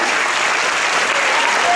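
Dense, steady applause from an audience at an awards ceremony for a boys' final, loud and sustained throughout with no pauses.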